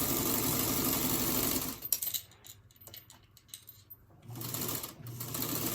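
A sewing machine stitches teal and light gray quilt fabric rectangles with a fast, steady mechanical whir, breaks off for a couple of seconds of small clicks and handling noises, then runs again.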